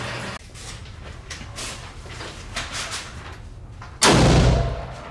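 A single loud black powder gunshot from an EMF Hartford 1872 SAA Colt clone revolver in .45 Long Colt, a sharp broadband blast near the end that decays over about a second after a stretch of quieter outdoor background.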